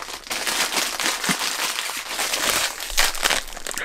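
Plastic blind bags for Monster In My Pocket figures being torn and crinkled open, a busy close-up run of crackling, rustling plastic for several seconds.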